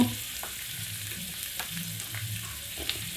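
Beans, pumpkin and eggplant fry lightly in a pan for Bengali labra, a steady close sizzle with soft scraping stirs throughout and no talk.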